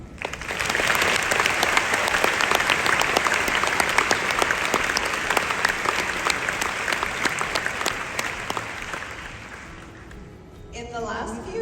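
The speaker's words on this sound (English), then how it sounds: "Let's have a round of applause acknowledging that we are here and for the amazing support system that helped us get here." Sustained, dense applause fills a large graduation ceremony audience. Loud crowd clapping holds for about ten seconds, then fades away near the end.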